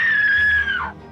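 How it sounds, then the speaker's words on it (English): A classic horror movie scream from a 1994 film rings out as one loud, high, sustained shriek that holds steady and then drops in pitch before cutting off. "I also love horror's classic scream."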